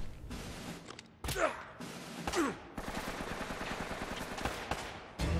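Gunfire from the video game Uncharted: Drake's Fortune, with sharp single shots and rapid automatic bursts in irregular clusters, loud and close, mixed with other game effects.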